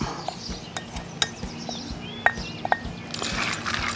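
Peanuts being stirred into barbecue marinade in a container, heard as scattered close clinks and scrapes over a quiet background, with a soft wet rustle building toward the end.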